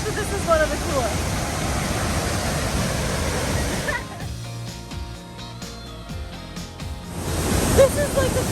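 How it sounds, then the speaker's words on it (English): A powerful waterfall on the Nile at its narrowest point roars as continuous loud rushing water, easing briefly midway while people talk nearby, then surging again. "I've seen a lot of waterfalls, but this is one of the coolest."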